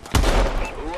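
A single burst of gunfire in the video game Call of Duty Advanced Warfare, a sharp loud crack followed by a brief rumbling tail.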